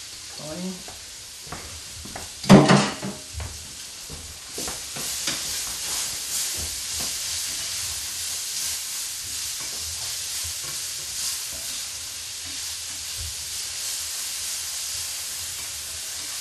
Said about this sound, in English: chopped whole onion and you brown it in the juices here. So get that going.